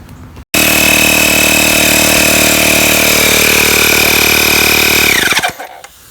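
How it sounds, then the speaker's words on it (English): A powered air pump or compressor inflating a tire on a 1972 Snapper Comet 26 riding mower runs loud and steady for about five seconds after a brief start, then winds down and stops. "we're going to pump it up and see if it holds air"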